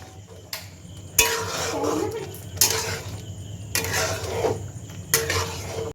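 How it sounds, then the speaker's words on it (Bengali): Red lentils with turmeric stirred in a pot, with a spoon scraping and knocking against the metal in four or five sharp strokes over a low background hum. "হলুদ দিয়ে দিচ্ছি এবার একটু নাড়াচাড়া করে দিচ্ছি"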